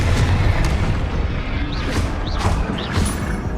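Confringo fire spell in a wizarding video game blasting with a heavy booming explosion over a dense, rumbling battle din, loud and close, with a few brief whooshing magic effects layered on top.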